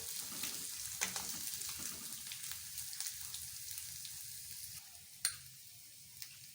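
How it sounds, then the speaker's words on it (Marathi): Kachori frying in hot oil in a pan makes a soft, steady sizzle and crackle, with a few light clicks of a utensil. It stays quiet and close throughout. "चांगलं लालसर होईस्तोवर ते परतवू"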